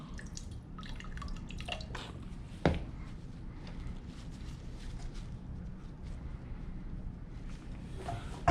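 Rinse water trickles and drips from lab glassware at a sink, with irregular splashes, a sharper drop near the middle, and a faint steady running-water wash underneath, fairly close and quiet.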